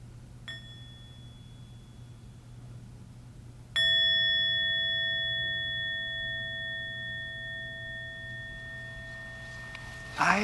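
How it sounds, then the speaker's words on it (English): A mindfulness bell is struck twice: a light first strike, then a louder one at about four seconds whose clear, pure ring sustains and slowly fades over a steady low hum, with no talk. "when I invite the bell and we bring awareness to our breathing, our mind and body come together."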